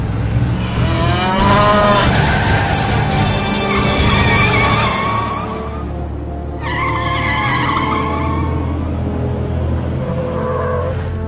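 A cow moos loudly in a Command & Conquer Renegade game cutscene, the calls drawn out and rising over a dense layer of rumbling engine and vehicle noise, with a second call a few seconds later.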